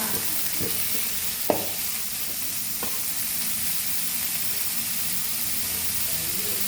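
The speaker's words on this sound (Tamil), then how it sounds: "பெரிய வெங்காயத்தை போட்டு வதக்கணுங்க வதக்கிட்டே இருங்க" Large onions sautéing in a home kitchen pan for kothu parotta, a continuous close sizzle with a few scraping stir strokes and light knocks in the first seconds, then steady frying alone.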